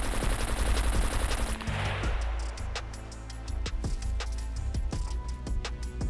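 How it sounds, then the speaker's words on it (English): Rapid automatic gunfire with standard rounds in the survival video game SCUM, loud sustained bursts of shots with sharp repeated cracks filling the whole stretch, no talking. "Let's test out the standard rounds. This one right here has armor piercing rounds. This has standard rounds. Let's fire away."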